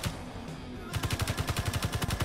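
Automatic weapon fire rattles against a light armor block in Space Engineers. A quieter lead-in gives way to a fast, even burst of close, punchy rounds with no talk.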